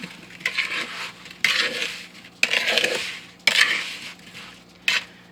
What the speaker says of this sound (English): And then I'm just gonna gently mix these up.